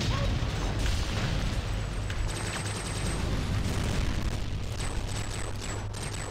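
Dense, continuous rumble of TimeSplitters Future Perfect battle sounds with booming explosions and crackling bursts layered over a steady low drone, loud throughout.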